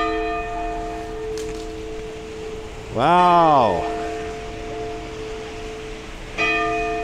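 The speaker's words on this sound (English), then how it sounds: "That is the bell of the Sapporo Clock Tower." The bell of the Sapporo Clock Tower in Japan rings out once, a single loud bright stroke that decays over about a second amid steady outdoor hum, with a second fainter stroke later; someone briefly exclaims.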